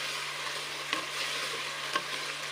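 A steady, soft sizzle of potato and eggplant sabzi frying uncovered in a pan, with two light stirring scrapes breaking through the even crackle.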